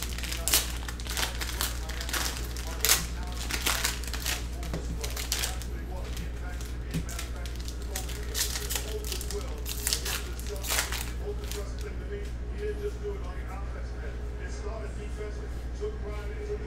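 2021 Prizm baseball card packs being ripped open, with continuous close crinkling and tearing of foil wrappers over a steady low room hum, busy and textured throughout.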